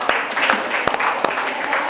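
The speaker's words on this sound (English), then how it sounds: "Big round of applause." A training audience at a lactation management session in a hospital breaks into a short round of applause, sharp individual claps standing out within a close, fairly loud patter.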